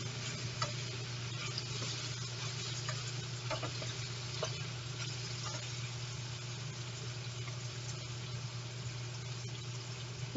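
Garlic frying in a pan, a quiet steady sizzle with faint scattered pops and ticks over a low constant hum, no talking.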